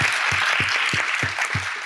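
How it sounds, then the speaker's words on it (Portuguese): Audience applause, dense continuous clapping filling the short stretch, fairly loud and close, with a faint low thumping pattern underneath. "só isso merece uma puta de uma salva de palmas aí"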